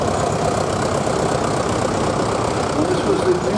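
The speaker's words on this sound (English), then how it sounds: "Now to the Perkins engine into this Fordson." A post-war Fordson Major tractor fitted with a Perkins engine runs at a steady, rumbling idle in a show arena, loud and continuous with an even low throb throughout.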